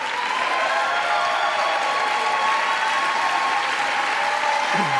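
Sustained, dense audience applause with some cheering fills a large chamber during the State of the Union address, steady and loud throughout.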